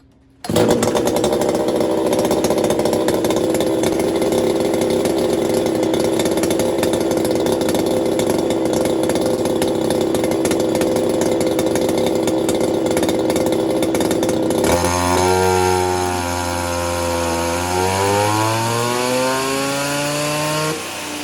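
A Poulan 260 42cc chainsaw with a modified muffler runs loud and close at a steady high rev for about fourteen seconds. Its pitch then drops and wavers as it bogs and winds down toward idle.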